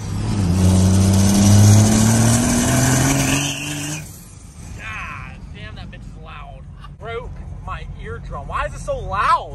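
A modified 12V Cummins diesel truck making about 900 horsepower revs loudly and close for several seconds, its deep roar sweeping upward before cutting off, followed by people talking.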